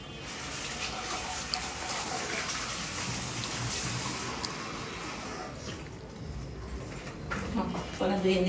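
Tap water pours and splashes steadily into a basin, a continuous broadband rush that eases off toward the end, with people talking over it.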